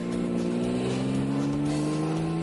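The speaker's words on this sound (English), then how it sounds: "when you're a passenger in this Aston Martin DBR1 going 30 miles an hour, it still feels spectacular" A vintage Aston Martin DBR1 race car drives at low speed, its engine giving a loud, steady, close-up drone with a slowly rising pitch, no talking.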